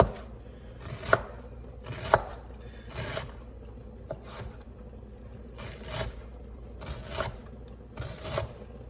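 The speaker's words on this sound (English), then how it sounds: "we're gonna grab that cut right here and then slice through" A kitchen knife slicing and dicing an onion on a cutting board, giving a steady series of close, soft chops and scrapes in a regular rhythm with no voices.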